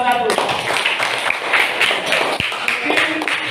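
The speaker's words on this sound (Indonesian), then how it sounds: "Tepuk tangan dulu untuk kelompok 1" A classroom of students applauds for a group after its presentation, with mixed claps and taps running steadily throughout and some voices mixed in.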